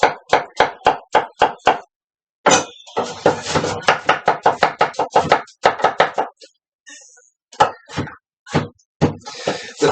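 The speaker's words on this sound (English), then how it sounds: "So now you're going to carefully chop these" Knife chopping food on a cutting board in a home kitchen, a quick run of sharp rhythmic knocks, then more bursts of chopping after a short pause, close and clear.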